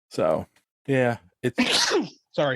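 A single sharp, breathy sneeze bursts out in the middle of a conversation, close to the microphone and loud, surrounded by short bits of talk before and after.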